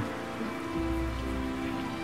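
Steady rain falling and pattering on a surface, a continuous even hiss close by with a low hum underneath and no talking.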